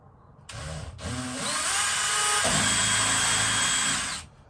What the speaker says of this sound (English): I can just do it with the drill bit